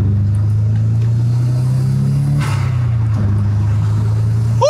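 A car engine drones steadily at low revs during break-in driving on the Autobahn, with a brief breathy hiss as a gear is shifted about halfway through. The engine hum continues evenly afterward, close and fairly loud, with no talking.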